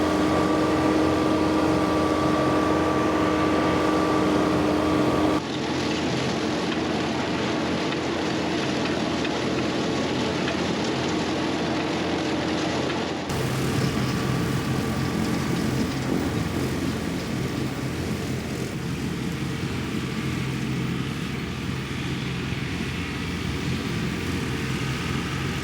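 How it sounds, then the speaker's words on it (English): A John Deere 3046R hydrostatic compact tractor with a Rhino TS10 mower cuts a hay field, its engine drone and mower whir running steady and loud throughout with no talk. "There's nothing like mowing with a hydrostatic tractor."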